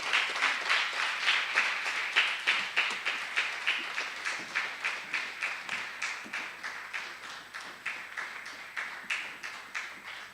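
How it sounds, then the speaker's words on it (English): A seminar audience on decolonization of education in South Africa claps for a professor coming to the podium, a moderately loud run of clapping with a pulsing rhythm that slowly fades over about ten seconds. "A round of applause for him."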